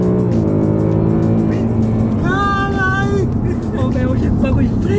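A 2020 Ford Mustang drives and brakes on a road, its engine note rising and falling with a short squeal as it slows, loud and close from inside the car, with people talking over it.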